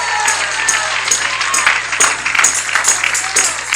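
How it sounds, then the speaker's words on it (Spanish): A church congregation applauds during a sermon on spiritual warfare, a lively patter of clapping with uneven bursts and some cheering mixed in, heard through a roomy hall with a low hum beneath. "Dele ese aplauso al Rey de reyes"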